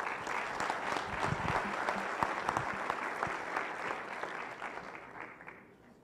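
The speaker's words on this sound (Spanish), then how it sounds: "Un aplauso para recibir a la doctora." Audience welcoming a doctor to the podium at a poultry-science lecture with a round of applause, a busy patter of many hands that holds steady, then gradually fades over the final couple of seconds.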